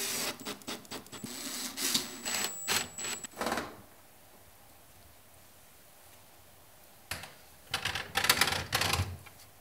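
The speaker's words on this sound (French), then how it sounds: "Visse ensuite avec les vis fournies." A power screwdriver driving the supplied screws to fix adjustable feet onto a shower tray, with two bursts of close, buzzing rattling whir separated by a few seconds of near silence.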